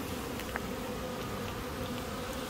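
Honey bees from a newly installed package colony buzz steadily at the hive, a dense continuous drone heard close and unbroken, with no voices.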